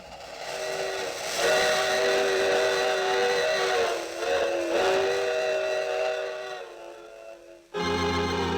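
A steam train whistle wails loudly over rumbling rail noise, wavering in pitch, then fades before a sudden burst of another sound.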